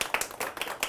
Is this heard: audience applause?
yes